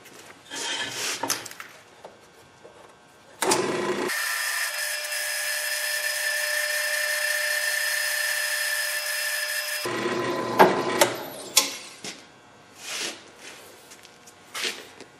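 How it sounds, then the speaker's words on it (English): A power drill whirs steadily for about six seconds, loud and close, framed by shorter scraping and knocking of work on wood before and after. "we'll drill a hole in this thing"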